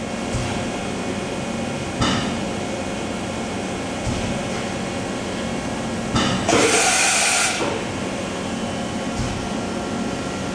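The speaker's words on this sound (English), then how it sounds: "simulating a tool change." A Matsuura twin-pallet vertical machining center runs a simulated tool change, a steady mechanical hum with a few short clunks and one loud bright hiss-and-whir burst midway.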